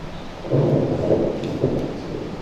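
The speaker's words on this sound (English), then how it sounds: "It's been thundering and pouring." Stage thunder effect in a community theatre production of Our Town, 2025: low rolling rumbles swelling in several waves under a steady hiss like pouring rain, with no voices.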